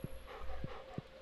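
A farm dog being petted in the Stardew Valley video game gives three short, low, soft bark-like sounds, evenly spaced over a quiet, steady game background.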